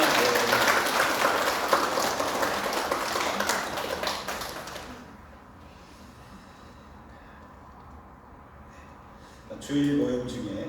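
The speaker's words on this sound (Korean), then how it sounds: "박수 한번 해주실까요?" Church congregation applauding during a Sunday service, a dense burst of clapping lasting about five seconds before dying away into a quiet room, with a brief noise near the end.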